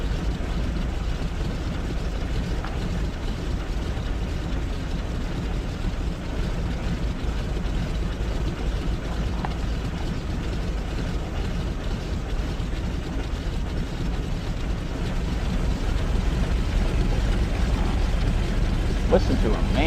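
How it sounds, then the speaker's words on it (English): The 7-cylinder Avia R12 engines of an Avia 51 airliner drone in Flight Simulator X, a low, rough, continuous rumble at moderate volume that swells slightly toward the end, with faint voices underneath. "Big loping 7-cylinder Avia R12s."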